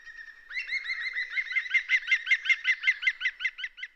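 A green woodpecker calls loudly and rapidly, a run of repeated sharp, laughing notes that speeds into an even rhythm, close by with no other sounds.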